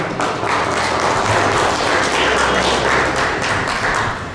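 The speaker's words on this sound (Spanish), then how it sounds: "Así que le damos unos aplausos a nuestros amigos por participar." Sustained applause from an audience at a training session for neighborhood boards and municipal security staff: dense, even clapping lasting several seconds at steady loudness, easing slightly at the end.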